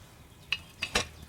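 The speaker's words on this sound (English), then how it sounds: "Hear that bubbling? It's boiling." A cauldron boils over a fire in Kingdom Come Deliverance II, its low steady simmer broken by three distinct bubbling pops close by.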